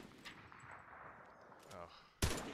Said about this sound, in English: feel like I'm gonna shoot this thing out of the way